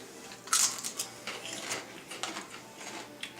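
Kettle-cooked barbecue potato chips with a red powdery coating being chewed close up, a run of crisp irregular crunches and bites, quiet and without talk.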